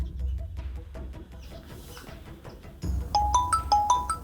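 An incoming-call phone ringtone chimes in a repeating bright melodic pattern, starting partway through after a stretch of quieter background sound and playing moderately loud to the end.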